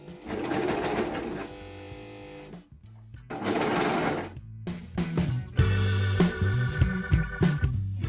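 A sewing machine stitches old denim jeans being remade into bell bottoms, running in loud bursts with short pauses between, the motor whirring steadily during each run.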